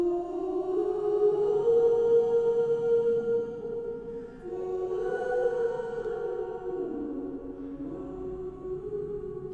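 Layered choir of one person's own voice pitched up an octave with formant shift, blending into a small choir pad; sustained harmonic vocal tones, fairly loud and steady, swelling again midway, no speech.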